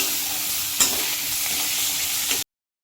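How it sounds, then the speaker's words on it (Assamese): Pork fries in a wok without added oil, cooking in its own fat, with a strong, continuous close sizzle, a couple of sharper spits, and a sudden cut-off near the end. "এনেকৈ তেল নিদিয়াকৈ অলপমান তেল ওলোৱালৈকে ভাজি ল'ম"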